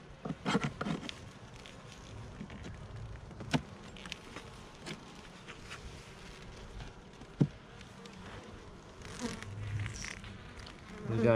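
Honey bees buzzing around an open hive during an inspection: a faint, steady insect hum with occasional knocks and handling taps of frames nearby, no talk.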